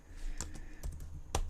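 Computer keyboard typing, a few sparse key clicks close by and fairly quiet, with no talk.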